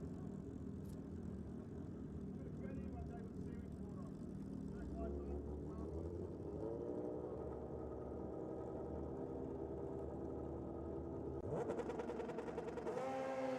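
A Suzuki GSX-R 1000 motorcycle drag racing at a nitro drag racing championship, its engine note rising and sweeping over steady crowd and track noise, with a sharper burst near the end.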